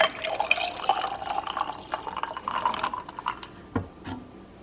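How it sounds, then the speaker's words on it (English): Cold coffee pours and trickles into a glass over ice cubes, a steady splashing stream, followed by a few faint clinks and drips near the end. "And then I'm gonna pour about a cup of cold coffee over the ice"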